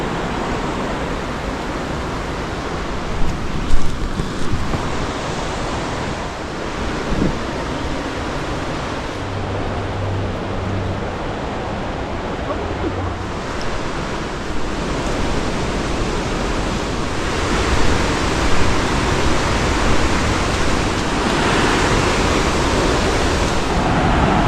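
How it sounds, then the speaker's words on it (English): Brushy Ridge Falls, a waterfall in Linville Gorge, pours with a loud, steady rushing roar that fills the whole scene, swelling slightly at times, with no voices. "So that is Brushy Ridge Falls."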